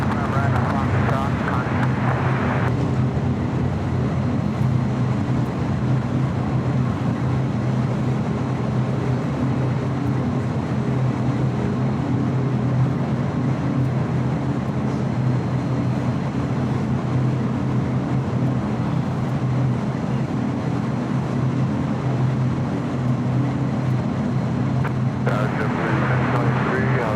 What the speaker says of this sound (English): we got that Queen going to be taking off on the south side, heading to Honolulu